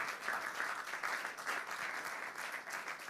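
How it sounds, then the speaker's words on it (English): Debate competition audience clapping together in sustained, dense applause that holds steady throughout, with no voices over it. "I want all of us to clap for ourselves because we're all champions."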